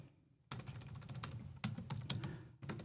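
Quiet, close typing on a computer keyboard as a network command is entered, a quick run of soft key taps after a moment of silence, with a short pause near the end.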